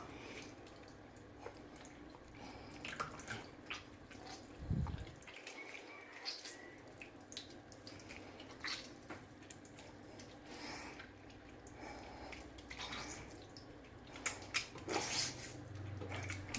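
Homemade mozzarella squeezed by hand, its whey dripping and trickling away in faint, scattered drips with soft squishes over a quiet kitchen background.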